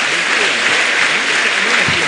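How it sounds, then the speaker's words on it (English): An audience at a scholarship award ceremony applauds, a dense, loud, continuous clapping that fills the whole moment with murmured voices faintly beneath. "A better round of applause,"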